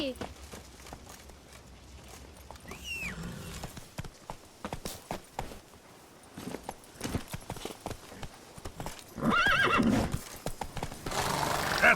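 Horse neighing and hoofbeats from the horse in the video game The Witcher 3: Blood and Wine, with whinnies and clip-clop steps mixed among game sounds and music, and a louder burst near the end.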